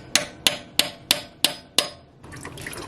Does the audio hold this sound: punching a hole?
yes